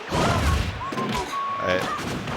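A Toon Link bomb explodes in Super Smash Bros. during a tournament grand final, a broadband boom near the start followed by clattering game effects and tonal chimes, with commentators talking throughout.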